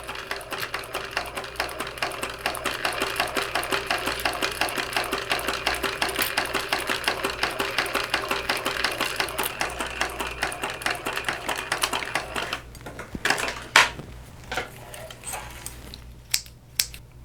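A sewing machine bastes the side of a shoulder bag closed, its needle running in a fast, even mechanical patter for about twelve seconds before stopping, followed by a few scattered clicks and handling noises.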